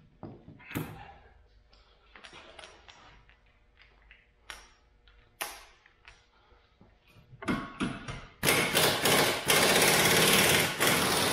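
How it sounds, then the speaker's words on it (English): Power tool removing the last axle hub bolt on a supercharged 2020 Mustang GT, heard as short separate bursts that build into a loud, sustained run of hammering at the end. "let's go ahead and remove this last bolt over here."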